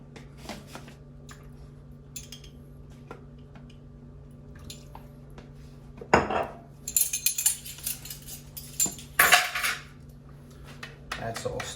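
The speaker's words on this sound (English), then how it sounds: "That's all stirred in." Metal spoon clinking and scraping against a bowl while red wine vinegar is stirred into salsa verde, a few sharp clatters and wet squishes in the second half after a quiet start.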